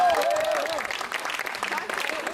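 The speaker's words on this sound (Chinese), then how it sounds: "非常高兴，拍手，快点！" Audience applause at an evening party at the Lucy Tour holiday resort in Armenia: dense, steady clapping from a crowd, mixed with a voice talking over it throughout.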